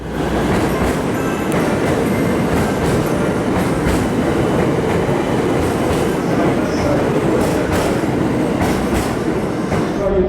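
The Sunrise Seto sleeper express train rolls steadily into a station platform at close range, wheels clacking over rail joints with a faint squeal, continuous rumble filling the whole stretch.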